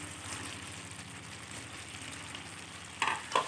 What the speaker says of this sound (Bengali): এবার এতে অ্যাড করে দিচ্ছি ব্রোকলি আর আলু